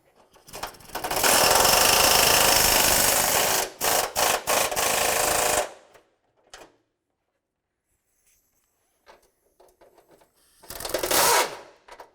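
A power impact tool tightens bolts on a bumper bracket of a Chevrolet Express 3500 van, firing in a loud sustained rattling burst, then several short stuttering pulses, a quiet pause with faint clicks, and one final brief burst.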